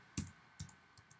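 A computer keyboard takes a few sparse, quiet keystrokes, four soft clicks spread unevenly over about a second with near silence between them and no voices.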